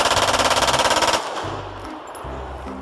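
A toy pistol fires a rapid, steady burst of electronic machine-gun sound for about a second, then cuts off, leaving lower rhythmic toy noises and background hum.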